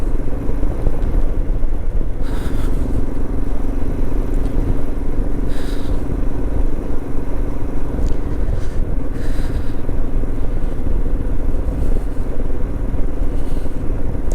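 Motorcycle ridden on a cold, off-season Ladakh road, a steady loud engine rumble with constant wind roar throughout, broken by a few faint scraping knocks.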